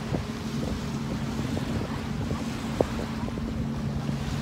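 Steady surf washes in on a beach at a resort in Punta Cana with a continuous low rumble, mixed with wind buffeting the microphone and a few faint clicks.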